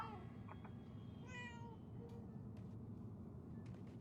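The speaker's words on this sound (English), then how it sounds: "I can meow!" A cat meows a few times in the video game Murdered: Soul Suspect, with short rising and falling cries standing out over a steady low game hum.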